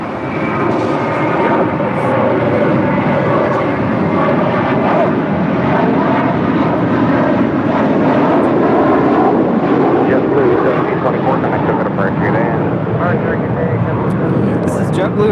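An Airbus A321 airliner's jet engines roar steadily and loudly during a takeoff run, a dense sustained rumble and whine that holds at a high level throughout.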